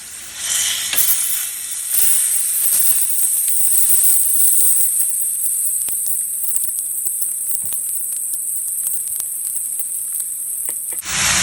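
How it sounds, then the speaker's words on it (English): Boiled lentils and greens are stirred gently in a frying pan, sizzling loudly and steadily with scraping utensil strokes and light crackles throughout. "I've added boiled lentils and greens, and I'm mixing it very lightly"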